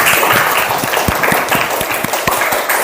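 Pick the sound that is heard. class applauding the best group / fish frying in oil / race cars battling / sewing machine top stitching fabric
class applauding the best group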